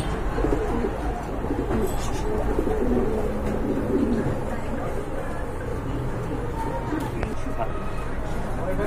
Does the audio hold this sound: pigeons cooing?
yes